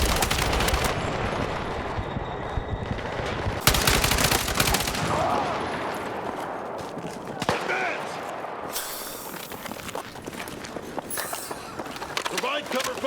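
Battlefield 6 combat with dense bursts of automatic gunfire and sharp single shots cracking over continuous battle noise, loud and close, while voices shout intermittently beneath the shooting.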